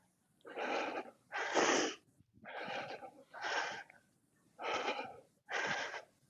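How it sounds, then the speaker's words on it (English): An athlete power hiking in an obstacle course race breathes hard and loudly, six heavy rhythmic gasping breaths about one per second, close to the microphone with no talking. "You can hear breathing so hard."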